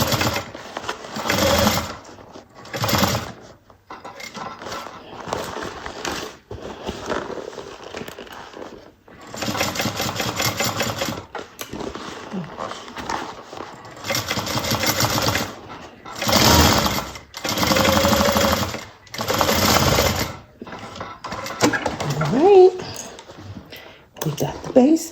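A sewing machine runs another row of stitches along a seam of a Marzia bucket bag, in several sustained bursts of steady mechanical whirring separated by short pauses, with voices talking in between.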